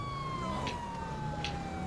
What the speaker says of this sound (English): Only one of my sirens works, like, I've only got the blue one.